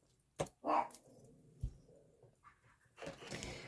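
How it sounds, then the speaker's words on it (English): A dog barks outdoors in a few short, scattered bursts, somewhat distant, with quiet pauses between them. "I don't know what he's barking at out there."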